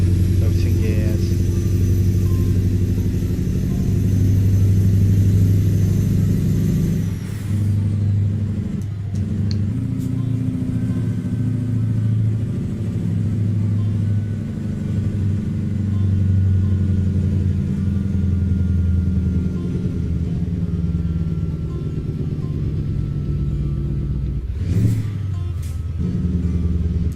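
A truck engine in a trucking video game, pulling a quad or triple trailer road train in Mexico, drones loudly and steadily, with a pitch drop and brief breaks where gears shift, and a short disturbance near the end.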